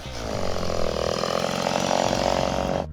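A chainsaw cuts across the tops of wooden stumps in one loud, steady run of close engine roar and chain whine lasting nearly three seconds, then stops abruptly.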